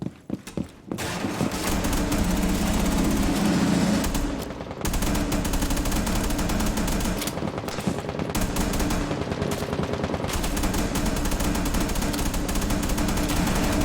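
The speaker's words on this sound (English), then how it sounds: "now he's shooting again" Loud, rapid automatic gunfire from Rainbow Six Siege gameplay hammers almost nonstop in long bursts, breaking off briefly midway before resuming with dense, continuous shooting and no talk.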